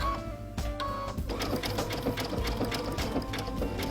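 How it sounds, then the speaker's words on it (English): A sewing machine runs steadily at close range while sewing a dense satin stitch around raw edge applique, producing a continuous fast rhythmic clatter. "So to sew my inside corner, I'm going to sew past the corner just a little bit."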